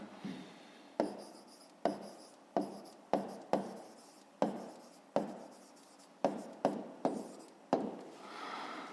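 A pen writes on paper in a series of short scratchy strokes, each starting sharply and fading, about a dozen in a loose irregular rhythm, close and quiet with no voices.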